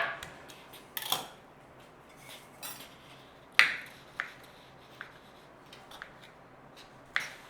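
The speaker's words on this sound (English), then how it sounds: "we want to be cutting up our sausages" A knife cuts sausages for a curried sausage pie in a home kitchen, giving a scattered series of sharp clicks and taps against a board, irregular and close, with quiet gaps between strokes.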